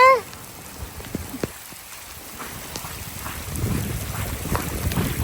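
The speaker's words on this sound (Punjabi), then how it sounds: "ਆਹ ਫੁਆਰੇ ਚੱਲ ਪਏ ਸਾਰੇ ਪਾਸੇ" Garden sprinklers spray water over a vegetable patch, a dense rain-like patter with scattered drops that swells louder toward the end, with a brief voice at the start.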